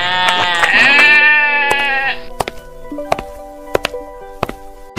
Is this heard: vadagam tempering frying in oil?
no